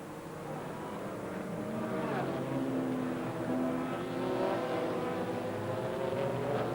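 Audi race car lapping in a 2001 American Le Mans Series race, a steady loud engine drone that stays sustained throughout with slight rises in pitch as it accelerates, with faint commentary underneath.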